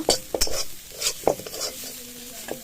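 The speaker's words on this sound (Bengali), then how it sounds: "ইটের উপর কড়াই বসিয়ে মেথি শাক ভাজছি" A spatula scrapes and stirs in a wok set on bricks over a wood fire, with soft sizzling of fenugreek greens frying and occasional metallic knocks.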